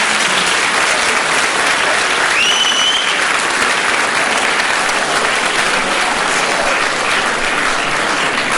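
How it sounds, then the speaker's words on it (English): An outdoor festival crowd at Boardman YES Fest 2015 gives a loud, dense, continuous round of applause up close, with a brief whistle rising above the clapping. "So give yourselves a nice round of applause."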